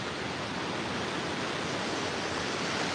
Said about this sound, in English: That water is so loud.